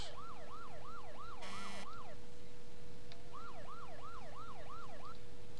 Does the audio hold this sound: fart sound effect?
no